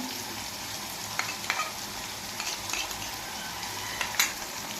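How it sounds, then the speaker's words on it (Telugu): Green masala paste frying in a pan for a mango and fish curry, giving a steady close sizzle with a few sharp crackles and light stirring scrapes, with no voices. "తగినంత సాల్ట్ పచ్చివాసన పోయేలా వేపుకోవాలి"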